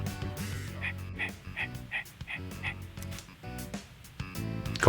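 Koromaru, the dog companion in the video game Persona 3 Reload, gives a series of short, evenly spaced barks or yips over steady game music and ambience, moderately loud throughout.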